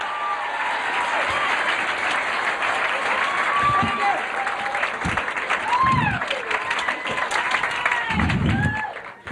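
A TV studio audience applauds comic magician Larry Wilson as he comes on. Steady clapping runs throughout, with voices calling out and talking over it.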